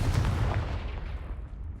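A Confringo fire spell blast goes off in the Hogwarts Legacy video game: a short, punchy bang at the start, then a dull, rumbling decay that slowly fades, heard moderately loud without any voices.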